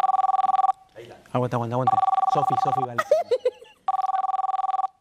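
A telephone ringback tone pulses in bursts at the start and end of a call, with people talking over the gap between the rings.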